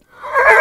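A single loud horse whinny, rising quickly from near silence into a close, strident neigh that fills the short moment alone.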